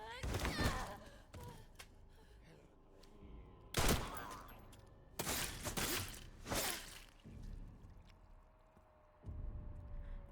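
Gunfire in the horror video game Resident Evil Requiem, a few sharp, loud shots spaced apart amid game ambience, with a player's voice heard around them.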